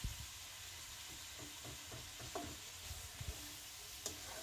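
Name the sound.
vegetable frying in a covered wok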